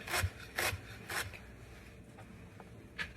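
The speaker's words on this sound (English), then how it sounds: "Now I'm gonna chop up both kinds of kale really finely and put them in my big salad bowl" A knife slices through tightly rolled kale leaves on a cutting board for a winter Waldorf salad, giving a few crisp, close cuts spaced about half a second apart, then softer scrapes.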